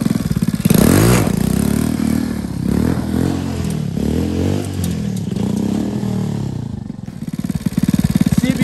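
X19 super pocket bike, a CBR 1000 Mini style mini motorcycle, with its small engine running loud and close, revving and chattering steadily throughout with a few throttle surges.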